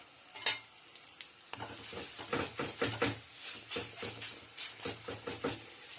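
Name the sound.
harcha semolina flatbread frying in oil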